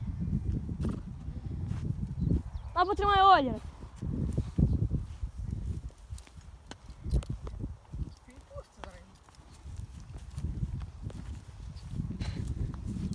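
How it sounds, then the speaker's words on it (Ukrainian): A young mare trotting about on a farm, scattered hoof clip-clops at middle distance among rustling, a short whinny-like call, and people talking nearby. "Кобилка бігає."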